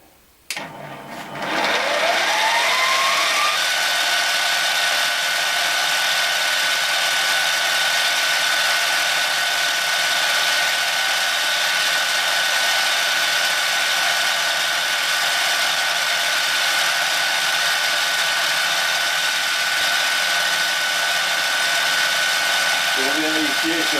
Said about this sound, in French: je vais faire une petite passe donc d'essai où normalement ça ne devrait pas entamer beaucoup le métal